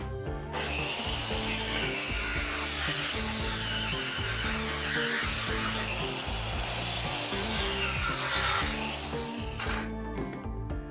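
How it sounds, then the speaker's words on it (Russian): Angle grinder slicing through an old respirator mask filter, a loud, continuous grinding whine with rhythmic cutting pulses for about ten seconds, then dropping off abruptly near the end; no talking. "Давайте разрежем старый фильтр от маски болгаркой и посмотрим, что у него внутри."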